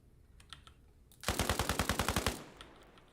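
Machine gun fire in the video game ArmA Reforger: a single sustained burst of about a dozen rapid, evenly spaced shots, loud and close, stopping abruptly after roughly a second.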